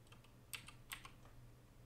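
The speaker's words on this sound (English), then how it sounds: "we're gonna get that mouse keyboard ASMR today because my keyboard and mouse is loud." Soft, close clicks of typing on a loud computer keyboard and mouse, a few scattered keystrokes with two sharper taps, faint over a low steady hum.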